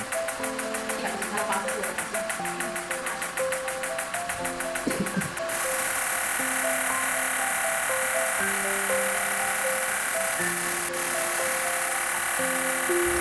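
A Perfect Shape 5-in-1 professional body-contouring device running in its treatment cycle, giving a steady electronic hum with shifting tonal beeps and a buzzing pulse that stops partway, continuous and close throughout.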